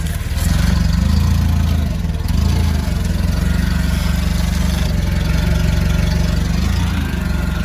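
A Nissan 3-ton forklift engine idles close by with a steady, throbbing low rumble and even mechanical chug, loud and continuous throughout.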